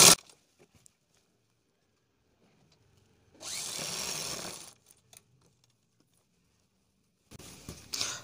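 A sewing machine stitches down the center of a kurti back neck in two short bursts of whirring motor and needle rattle, separated by near silence.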